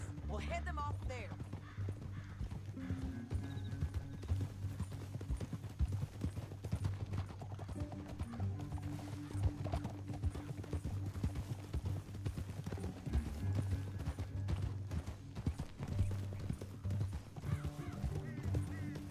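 Horse hooves clip-clop in a steady, continuous rhythm while riding in the Red Dead Redemption II video game, mixed with constant game ambience and occasional voices throughout.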